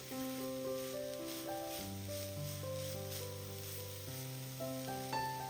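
Mackerel fish masala sizzling and being stirred in a pan, a soft continuous frying hiss under prominent background music, with no talk.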